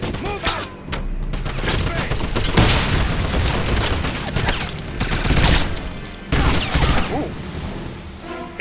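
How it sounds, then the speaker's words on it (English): Machine gun fire in the Wolfenstein video game: dense, sustained bursts of rapid gunshots with booming impacts. A voice talks now and then over the fighting. "He's using a machine gun."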